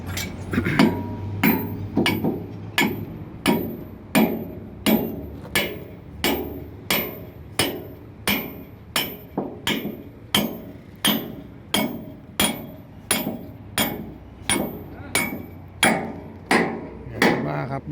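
Steady, evenly spaced metal-on-metal hammer blows, about two dozen in a row, drive a loose pin into a trailer hitch during a repair. The strikes ring out close and loud with no talking.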